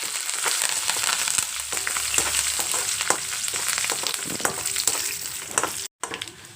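Curry leaves, garlic, dried red chillies, cumin and mustard seeds sizzle in hot oil for a tempering, a continuous crackling fry with small pops and stirring scrapes, close and fairly loud, with no talking.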